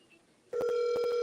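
A telephone rings after a moment of near silence, a loud steady electronic tone with rapid rhythmic pulses, close and alone.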